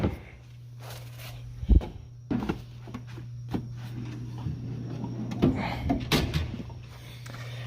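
A drawer in a mechanic's tool box slides open with scraping metal clunks and a few sharp knocks and rattles, close and uneven, over a constant low hum, with no talk.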